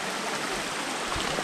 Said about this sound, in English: now I walk in the water